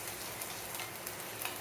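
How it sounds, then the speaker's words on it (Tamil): Finely chopped garlic and ginger fry lightly in a pan, giving a faint, steady, even sizzle with no voices. "அதை போட்டு லேசாக ஃப்ரை பண்ணிக்கலாம்."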